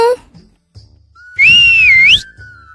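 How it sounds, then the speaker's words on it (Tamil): A person whistles a single loud, sustained note that bends up and down for about a second, with brief voices before and after. "என்ன விசில் அடிக்கிற?"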